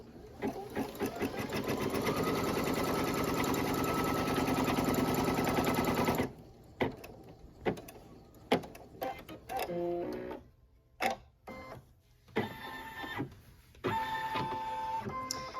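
An embroidery machine stitches a Halloween house design in a fast, steady mechanical whir with rapid needle clatter, then stops and starts in short bursts with clicks and beeps, close and unvoiced.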